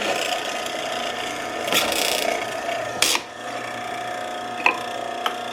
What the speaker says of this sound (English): This is a mortising machine.